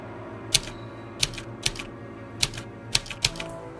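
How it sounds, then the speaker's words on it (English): Keys of a typewriter strike a freshly inserted sheet of paper in sparse, uneven bursts of sharp, close clacks, about eight strikes in all, with no voices. "inserted a sheet into the typewriter and began to type"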